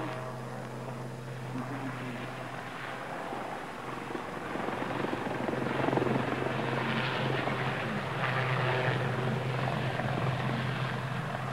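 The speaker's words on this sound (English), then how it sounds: "The Westland Aerospatiale Lynx, Rolls-Royce powered." Westland Aerospatiale Lynx helicopter with Rolls-Royce engines, a steady loud rotor and turbine drone with a low thrumming beat that swells slightly louder partway through, heard alone without voices.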